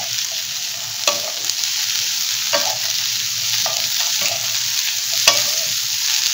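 Fennel seeds sizzle in a hot pan for creamy shrimp pasta, a loud steady frying hiss broken by a few sharp clicks of stirring.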